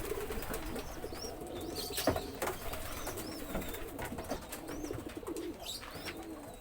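Pairs of pigeons in a courtship driving display, soft low cooing repeated against a busy background of chirps, scattered clicks and brief wing flaps.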